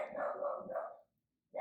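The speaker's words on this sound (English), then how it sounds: "I'm sorry about my dog barking." A dog barks indoors, one drawn-out, whining bark run followed by a short pause and the start of another, fairly close and moderately loud.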